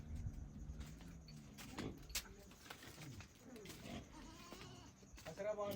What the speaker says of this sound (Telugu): వీళ్ళ మేకలు పెంచుకుంటున్నారు పాకలోనే